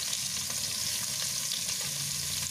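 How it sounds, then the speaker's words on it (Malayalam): Onions with a little salt sauté in hot oil alongside green chillies and curry leaves for a chicken pepper fry, a steady close sizzle and crackle that runs evenly throughout with no talking. "ഉള്ളി ലേശം ഉപ്പിട്ടിട്ട് ഒന്ന് വഴറ്റാം നമുക്ക്"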